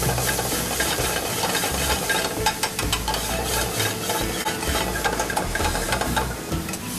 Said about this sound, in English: I'm gonna add my onions, mixed herbs, and garlic. And I'm just gonna saute it until the onions are translucent and tender